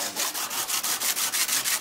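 Sandpaper rubbed back and forth along a knife in rapid, even strokes, about ten passes in under two seconds, close and fairly loud with no talking.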